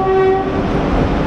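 A train at a Delhi station on the route to Saharanpur and Ambala gives a loud, close rumble with a short horn blast at the start.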